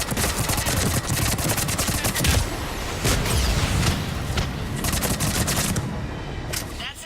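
Rapid bursts of gunfire from a gun in the video game Mass Effect 3, loud and dense with repeated volleys and booms, briefly pausing before resuming, nearly continuous over several seconds.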